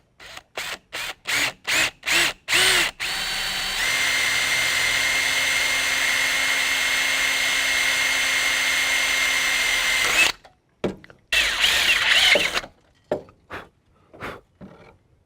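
A power drill bores through a vehicle hood into a scrap aluminum sheet beneath: short whirring trigger bursts, then a long sustained high-pitched whine while cutting, followed by further quick bursts, close and loud.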